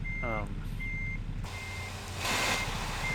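Reversing alarm on a semi truck in American Truck Simulator, a steady series of evenly spaced electronic beeps over a constant low engine drone, with a brief rising mechanical whine and a burst of hiss late on.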